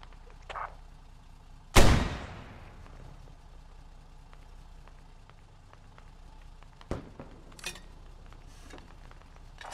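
A single loud close gunshot or blast booms out in Squad military gameplay, then rings off as a long tail, followed later by a few fainter distant shots over quiet background.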